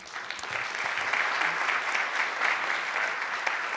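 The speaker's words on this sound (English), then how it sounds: "educators get lots of applause" A community audience at a chamber of commerce state-of-the-community event claps steadily, a dense, even wash of applause that holds at full strength throughout, indoors and moderately close.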